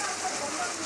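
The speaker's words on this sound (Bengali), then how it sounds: "বাহিরে অনেক বৃষ্টি হচ্ছে" Heavy rain falls outside, a steady broadband patter and hiss for under a second, soft and even.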